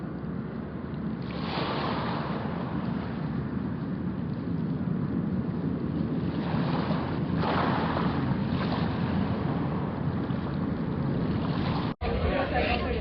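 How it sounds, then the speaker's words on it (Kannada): A passenger boat heads across the sea to St Mary's Island near Udupi, Karnataka, with a steady rumble of engine, wind and water that runs throughout, broken by a brief cut near the end. "ಹೋಗ್ತಾ ಇರುವಂಥ ಬೋಟ್ ಇದೆ."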